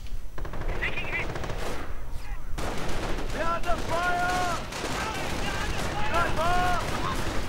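Dense automatic gunfire from MP40 submachine guns fills a World War II real-time strategy battle, a continuous crackling rattle with distant explosions, while someone commentates over it.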